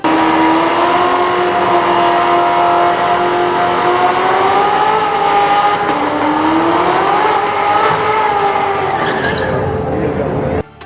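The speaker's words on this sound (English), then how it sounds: "The Corvette Z06 C7 appears in Need for Speed No Limits." A Chevrolet Corvette Z06 C7 engine in the video game Need for Speed No Limits drones loud and steady, its pitch rising and falling through sustained revs before cutting off at the end.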